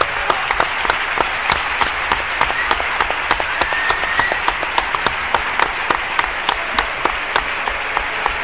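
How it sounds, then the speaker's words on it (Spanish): A crowd at a live radio broadcast in Cádiz claps for a guest, a loud, sustained wash of many hands with sharp individual claps standing out near the microphone throughout. "En fin, otro aplauso"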